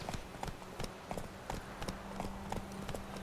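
A horse trots along in The Witcher 3 with a rhythmic clip-clop of hooves, even and moderately close, against a quiet game soundscape.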